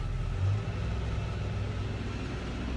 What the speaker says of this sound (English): So, I'm going to turn up some RPMs.